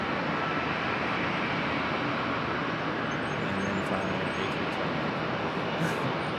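A CRJ regional jet at Charlotte Douglas International Airport makes a steady, continuous broadband roar, loud and near. Faint voices can be heard beneath the engine noise.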